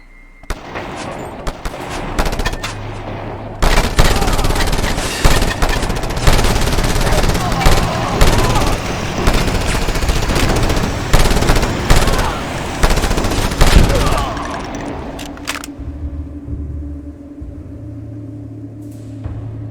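Rapid bursts of gunfire from the Just Cause 2 video game lay down covering fire in a dense, loud, sustained volley lasting over ten seconds. The shooting then drops to a low background rumble.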